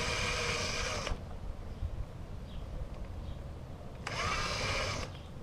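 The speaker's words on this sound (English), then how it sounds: "we'll drill these 3 rivets out" Two bursts of a high-pitched power drill whirring as it drills out rivets, each about a second long, separated by a quiet pause.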